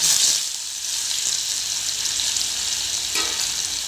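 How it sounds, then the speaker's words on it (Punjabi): Paneer frying in a hot pan for a paneer and capsicum curry, a loud steady sizzle and hiss throughout with a brief stirring clatter near the end. "ਫਿਰ ਅਸੀਂ ਪਨੀਰ ਨੂੰ ਫਰਾਈ ਕਰਨਾ ਹੈ ਇਹ ਪਨੀਰ ਫਰਾਈ ਕਰਨ ਲੱਗੇ"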